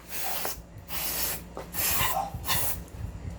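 Cleaner sprayed into the raised barrel of an airsoft Glock 18 during deep cleaning, heard as several short, close hissing bursts separated by brief pauses.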